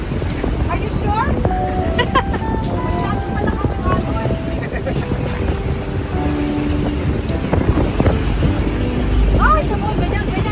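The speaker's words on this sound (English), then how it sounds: "Oh, it's a boat." A boat motors across open sea on an island-hopping trip off Boracay, with steady engine drone, water wash and wind buffeting the microphone throughout; faint voices are heard in the background.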